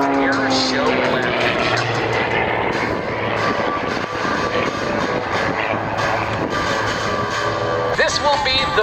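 Propeller aerobatic planes at an air show flying a loop with a snap roll, a loud continuous engine drone that rises and falls as they pass, heard under an announcer's commentary.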